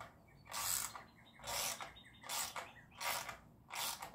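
A 12-point socket wrench loosening bolts on a large air cleaner bracket: five evenly spaced bursts of ratcheting clicks, close and fairly quiet, with short pauses between strokes.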